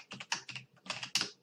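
Quick bursts of keystrokes on a computer keyboard while logging in as root on a Linux text console, crisp, close and uneven in rhythm, with short pauses between clusters of clicks.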